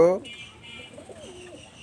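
A breeder pair of Teddy Golden pigeons for sale lets out soft, faint coos in a short, quiet stretch after a brief louder sound at the start.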